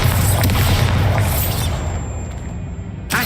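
A Bombarda explosion spell goes off in Hogwarts Legacy as a loud, deep boom that rolls out and fades, with a smaller crack near the end.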